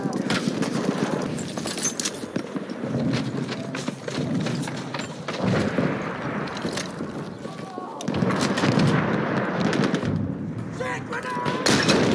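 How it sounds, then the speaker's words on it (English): Machine gun fire from the video game Battlefield 1 in a Domination match, dense continuous gunfire and explosive battle noise filling the scene, loud and close, with in-game voices calling out over the fighting. "Enemy machine gun!"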